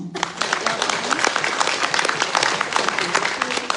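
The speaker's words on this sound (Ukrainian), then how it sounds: "бурхливі оплески нашому львівському діаманту Оксані Лужецькій" Dense, sustained applause from a large audience at a V-Eris company conference in Poland, a continuous wash of close clapping with faint crowd noise throughout.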